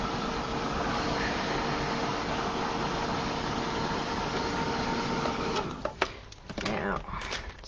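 An electric heat tool blows a steady, loud whirring stream of air to dry a wet art journal page, running alone for several seconds before fading into clatter and handling noises near the end.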